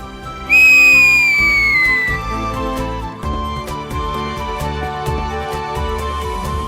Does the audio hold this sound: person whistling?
yes